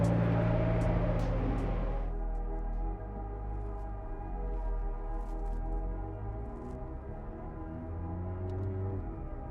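McLaren 765LT engine rumbling low and steady as the car rolls out of the pit lane, a loud continuous drone with shifting harmonics and no talk over it.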